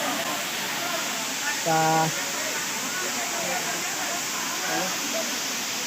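Gudhwa waterfall roars steadily as a broad, constant rush of falling water heard up close, with a brief voice and faint talk barely standing out above the noise.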